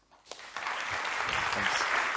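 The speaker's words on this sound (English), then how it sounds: "please welcome Roman Krznaric with a warm applause." Warm applause from a lecture audience welcoming philosopher Roman Krznaric, rising quickly from near silence after a single sharp clap into a full, sustained wash of clapping.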